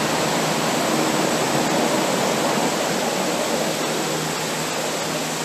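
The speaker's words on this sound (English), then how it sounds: "Here you can see just how quickly and easily the LCAC deploys from a complete standstill" An LCAC military hovercraft getting underway from a standstill gives a loud, dense, steady roar of fans and spray, broadband like a rushing waterfall, close and continuous without speech.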